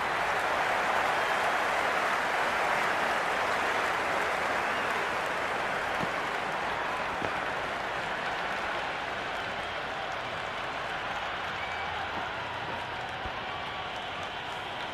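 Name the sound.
crowd applauding in cricket video game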